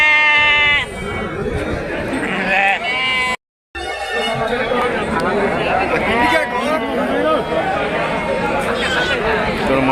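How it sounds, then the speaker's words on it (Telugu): Young ram lambs bleat repeatedly at a busy village sheep market in Kunta, with many overlapping calls near and far amid crowd chatter and people talking nearby, with a short silent gap partway through. "మాచర్ల పొట్టేళ్ళ పిల్లలు కూడా వచ్చింది."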